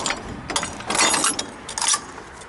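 A pintle hitch latch on a dump truck clanks and snaps in a series of quick metallic clicks and rattles over about two seconds, close and fairly loud, with no talk.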